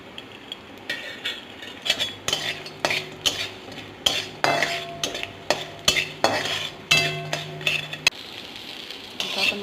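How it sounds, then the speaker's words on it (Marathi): Asafoetida (hing) dry-roasting in a pan while being stirred, for a homemade Kolhapuri onion-garlic masala, with close, repeated spatula scrapes and metallic clinks in an irregular rhythm over a faint sizzle. "आता हिंग भाजून घेऊया. हिंग पण आपला भाजून होतोय."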